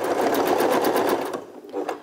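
A domestic sewing machine stitches a two-pleat fabric face mask, running a steady continuous whirr for over a second before stopping, followed by a few softer handling clicks close to the microphone.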